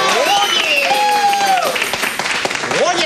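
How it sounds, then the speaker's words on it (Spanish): Studio audience applause during a Spanish-language comedy sketch, a steady loud wash of clapping with voices and tonal sound over it, continuous for about three seconds. "Oye, un aplauso para el licenciado."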